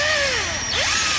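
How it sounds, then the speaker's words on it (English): A power drill loudly drills out a glued-in fitting on a grill being converted to biogas, the motor whining continuously with a dip and a rise in pitch as it loads and then speeds up again. "we decided to drill it anyway for those of you who may have ones that are glued in"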